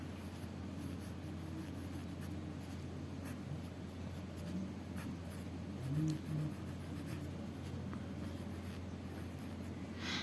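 Chalk or marker writing on a classroom board in an Indian general-knowledge lesson, a steady soft scratching and tapping that runs nearly unbroken for about ten seconds at low level with no talk.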